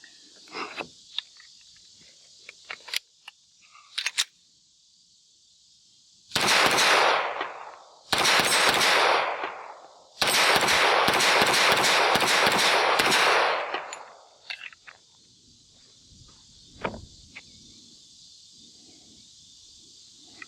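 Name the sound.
Taurus TH45 double action pistol firing a magazine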